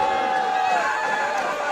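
A football crowd in the stands at a high school game boos a referee's call, a steady loud wash of jeering voices that holds without letup for the full moment.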